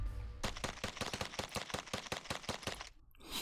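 Rapid gunfire at a shooting range, a fast string of about fifteen sharp, evenly spaced shots that stops abruptly, heard on its own without voices.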